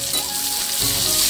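Chopped onions drop into hot oil that has been tempered with spices, and a loud, dense sizzle swells up as they land, steady and close with no voices.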